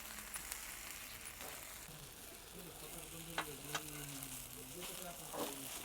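Thin jowar flour dhirde, a lacy village-style savory pancake, sizzles and roasts on a hot pan with a soft continuous hiss, a couple of faint clinks, and voices talking quietly in the background.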